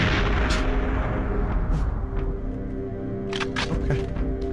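Gunfire from the video game Perfect Dark, a few sharp shots over a dense, steady game soundscape, with bursts clustered toward the end.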